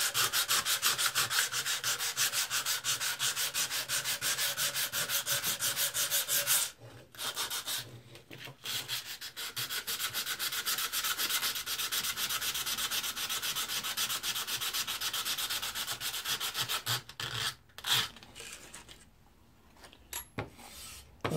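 An old edge tool frame is hand-sanded with 100 grit sandpaper to remove crusty buildup, making steady, rapid rasping strokes close up that run continuously, break briefly twice, then resume.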